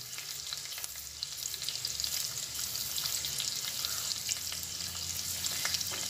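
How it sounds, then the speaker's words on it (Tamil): Onions sautéing with a little salt in a pan for channa masala, giving a steady, quiet sizzle and crackle with faint stirring scrapes throughout. "வெங்காயம் வதங்கிறதுக்காக கொஞ்சமாக உப்பு ஆட் பண்ணிக்கலாம்."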